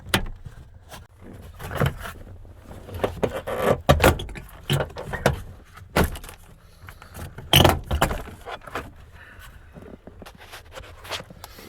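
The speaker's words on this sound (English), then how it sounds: "Then you can just start popping out the door panel" Prying the sliding door panel of a 2001–2007 Dodge Grand Caravan loose, popping out its hidden clips one by one: a close series of sharp plastic pops and snaps among rustling, scraping and handling noise, with no talk.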